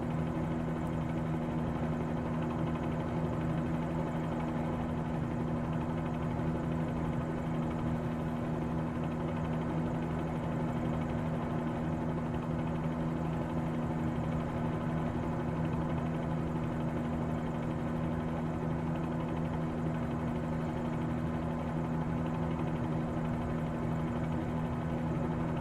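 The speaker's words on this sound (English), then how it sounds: "Got the red helicopter out today" A Bell 47G helicopter cruises in flight on a sightseeing tour over New York, its engine a steady, loud, droning hum with a constant low tone that never lets up.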